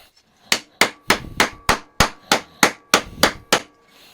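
Sharp hammer blows on sheet metal being shaped from flat to round for a Freddy Krueger glove in a garage, about eleven loud ringing strikes in a fairly steady rhythm, close and alone with no talk.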